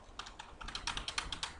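Quick bursts of typing on a computer keyboard, close and clear, with irregular clusters of key clicks building into a faster run of keystrokes.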